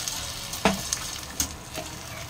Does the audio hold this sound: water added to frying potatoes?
yes